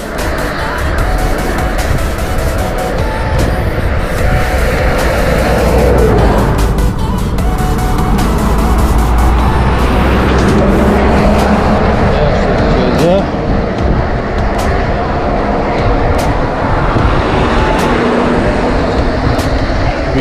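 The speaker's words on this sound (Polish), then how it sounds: "Jeszcze tir za nami." A truck overtakes cyclists on a road, a loud, close engine and tyre rumble that swells and passes amid wind buffeting, with people talking throughout.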